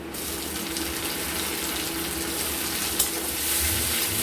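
Chopped tomato goes into hot oil in a pan for fish kofta curry, setting off a loud, continuous close sizzle that holds steady and swells slightly near the end.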